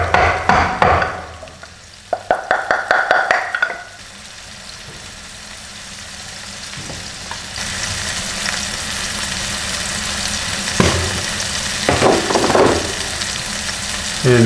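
Chopped tomato with black pepper and turmeric frying in a pan, with a quick run of stirring clinks at first, then a steady sizzle broken by occasional spatula scrapes.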